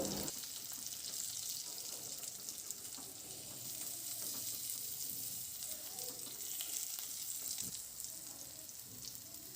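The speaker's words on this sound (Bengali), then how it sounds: "এবার গ্যাসের ফ্লেম মিডিয়ামে রেখে বেশ লালচে করে 2 পিঠ ভেজে নিতে হবে" Bottle gourd leaf parcels fry in mustard oil over a medium gas flame, giving a soft, steady sizzle and crackle that continues evenly throughout, heard close but fairly quiet.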